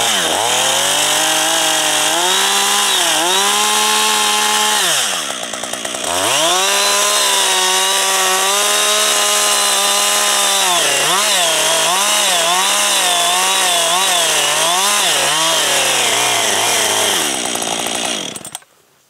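A chainsaw cuts a tree for felling using a bore cut, its loud engine holding steady, dipping briefly around five seconds, then revving up and down in waves before cutting off at the end.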